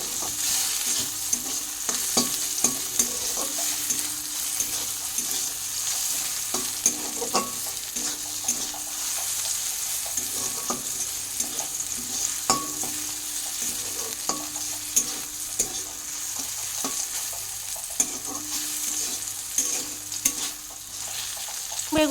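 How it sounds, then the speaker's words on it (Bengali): Snake gourd frying in a pan with black cumin, salt and turmeric, a steady close sizzle punctuated by frequent clicks and scrapes of a spatula stirring, continuing without talk. "তো সেটাকেই আমি কালো জিরে আর লবণ হলুদ দিয়ে একটুখানি ভেজে নিচ্ছি।"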